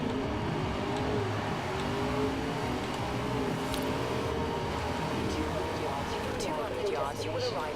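A car in a racing video game drives with a continuous engine roar that rises and shifts in pitch, loud and steady under someone talking.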